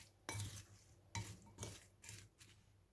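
A spoon scrapes and stirs through a bowl of chopped onion, tomato and plenty of garlic with Italian seasoning, salt and chili flakes, giving several soft wet sweeps and light clinks, quiet and close.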